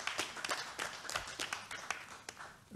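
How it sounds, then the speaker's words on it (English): An audience claps for Safaricom at the ABSA Kip Keino Classic Continental Tour media launch, giving quiet, scattered hand claps in an uneven patter that sounds faint and somewhat distant. "So a round of applause for Safaricom as well."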